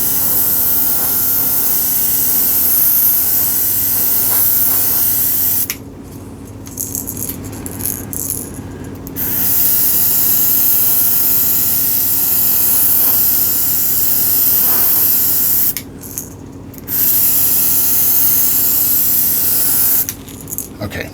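A USB portable airbrush sprays with a steady broadband hiss in long bursts, cutting out briefly twice and then resuming, close and fairly loud.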